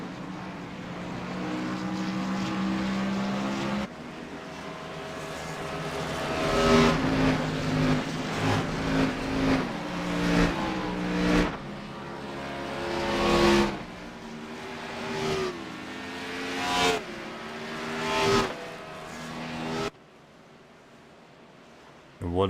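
Race cars pulling off the grid at Talladega in a racing video game, engines droning and surging in repeated rising swells, fairly loud and continuous, ending in a brief quieter stretch.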